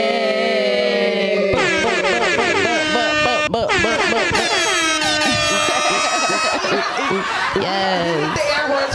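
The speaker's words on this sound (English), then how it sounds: "The air horns for you." Loud blaring air horn sound effect fires in repeated bursts, with voices chattering and laughing underneath.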